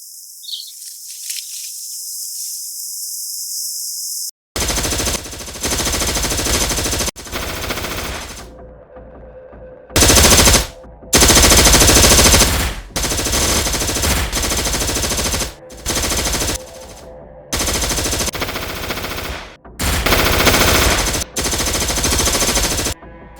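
Bursts of machine gun fire during a Philippine Special Action Forces raid at Mamasapano: a faint high tone, then repeated loud sustained volleys separated by brief pauses, close and harsh.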